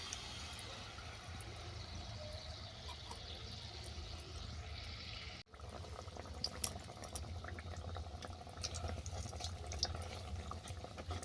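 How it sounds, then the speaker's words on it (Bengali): Malpua batter frying one by one in hot oil for a jaggery-syrup malpua, a steady low sizzle and bubbling running throughout without talk, briefly cut midway. "তেল গরম হয়ে গেছে, এরপর মালপোয়াগুলো আমি এক এক করে ভেজে নেব।"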